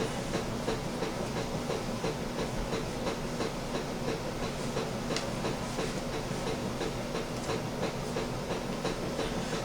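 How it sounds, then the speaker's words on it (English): Steady crackling and ticking of water coming to a boil in a small pan on a backpacking mini stove, a dense bubbling texture with a constant hiss, close by and moderately quiet, no voices. "See lots of activity on that water now. It'll start boiling any second."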